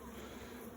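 Honey bees kept in a pot hive hum in a steady, close, continuous drone with no talk over it.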